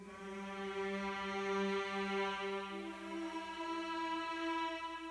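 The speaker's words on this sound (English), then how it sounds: "the second one I have is by Spitfire Audio, and it's just the free pack you get, the choir long." The free Spitfire Audio choir long patch sustains a steady, rich vocal chord for about five seconds, held evenly and heard alone at moderate level.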